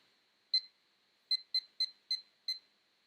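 A digital timer sounds six short, clean electronic beeps, one alone and then five in a quick run, as it is set indoors before a long-pose drawing session; no one speaks.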